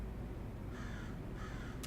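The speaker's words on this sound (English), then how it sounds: "Boy, the crows are really loud today." Crows caw a few times in the Lies of P game, harsh calls sounding at a moderate distance over a constant low background rumble.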